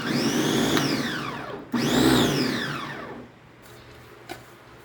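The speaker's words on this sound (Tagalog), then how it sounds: "sinalang ko na sa food processor yung ating carrots, bawang at" A food processor whirs loudly while chopping carrots, garlic and onion, its motor rising and falling in pitch across two bursts before easing off into a quieter hum with a small knock near the end.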